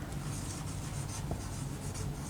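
A definition is written on a board during a physics lecture on thermodynamics, making continuous scratchy rubbing strokes, close and fairly clear, with no talking.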